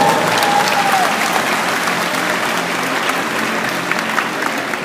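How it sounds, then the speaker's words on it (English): Audience applause fills a large indoor mall venue during an inspirational talk for persons with disabilities, steady and loud throughout with a continuous crowd wash and no distinct voices. "give yourself a round of applause."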